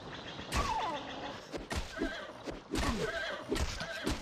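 A horse in The Bard's Tale video game neighs and whinnies several times in close, loud bursts, with hoof clip-clops mixed in between the calls.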